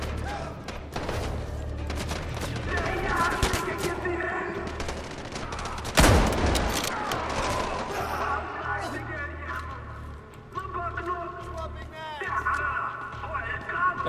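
Bursts of automatic gunfire from the video game Delta Force, in a Black Hawk Down mission, crackling steadily with one loud close blast midway, while people talk over the shooting.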